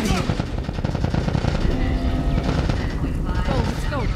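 Rapid automatic gunfire rattles almost nonstop in The Last of Us during a firefight against the Fireflies, dense bursts with shouting voices mixed in over a loud, busy battle.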